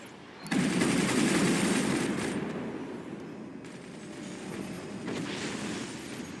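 Sustained gunfire from a first-person shooter game during a competitive playoff match, a dense burst that opens loud and keeps rattling at a steady level with a few surges, with no voice over it.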